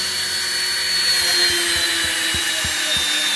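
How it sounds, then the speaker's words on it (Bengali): A machine grinds the inside of a tubeless tyre, giving a steady, loud abrasive whine and hiss with faint low thumps as the tool rubs against the rubber. "দেখুন ভিতরে ঘষতেছে কীভাবে মেশিন দিয়ে।"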